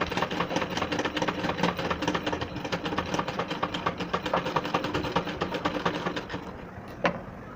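A sewing machine stitching a zipper onto a frock runs in a continuous fast mechanical chatter of needle strokes, close and loud, then slows and stops near the end.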